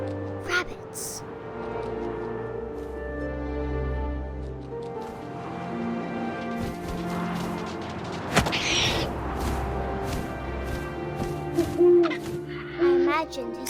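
An owl hoots in What Remains of Edith Finch, rising over wind and ambient game sound while a narrator speaks throughout, with a few sharp thuds and clatters near the end.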